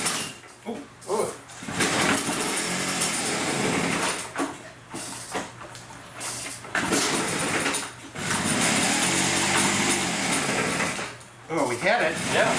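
A Puch Dart moped starting for the first time in 15 years, with mechanical clattering and engine noise coming in bursts broken by short gaps, and people talking nearby.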